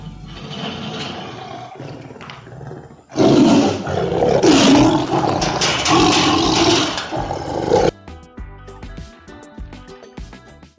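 A tiger lets out deep, powerful roars, the loudest burst in the middle of the stretch, close and intense, before dropping away to quieter background sound.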